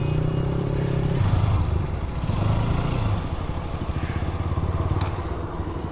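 A Yamaha MT-15 or KTM RC 200 motorcycle engine runs close by, a steady rumbling idle with slight rises in revs and some clatter, no talking.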